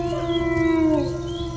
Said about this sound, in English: Wolves howl in the distance.